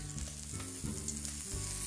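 A pork chop sizzling in a small amount of oil in a pan, a loud, dense, continuous crackling fry heard up close with no voices.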